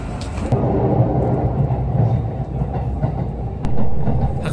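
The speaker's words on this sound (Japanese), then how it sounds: "列車は武雄温泉駅へと到着するところです" A train rumbles steadily as it rolls into Takeo-Onsen Station in Japan, a loud continuous low roar with faint rail clatter and no voices.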